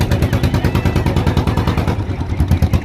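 A motorized ferry boat on the Ichamati river chugs near and loud, its engine knocking in a steady rapid rhythm throughout.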